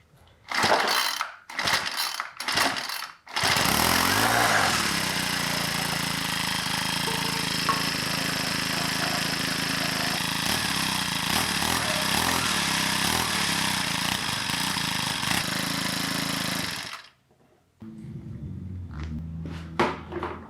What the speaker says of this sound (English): And full throttle, give it a couple pulls.